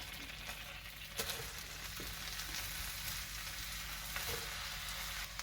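Cabbage stir-fries in a pan for a pork and mushroom stir fry, a steady, fairly quiet sizzle with a few light scrapes of stirring.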